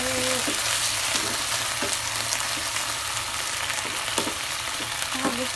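Chili peppers frying over low heat for tuna sisig, a steady broadband sizzle with occasional stirring scrapes and clicks throughout, close and continuous.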